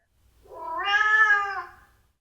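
A single drawn-out cat meow, clear and fairly close, swelling and fading over about two seconds with no talking.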